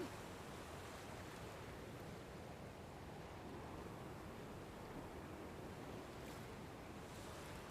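Water flowing in a river in Dragon Quest Builders 2, a steady, even wash of broad noise that holds at the same level throughout with no talk over it.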